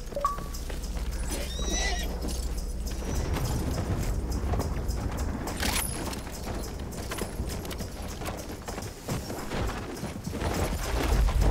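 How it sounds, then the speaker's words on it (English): In Battlefield 1, a horse neighs and whinnies, and then its hooves pound in a steady gallop amid distant battle noise and scattered gunfire. "let me get my horse"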